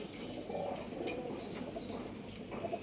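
Young adult pigeons in a loft coo in a soft, low, continuous murmur, with faint chirps and a brief flutter of wings mixed in throughout.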